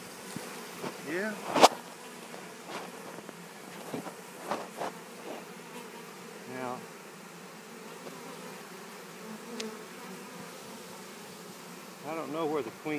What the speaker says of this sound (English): Bees off of that.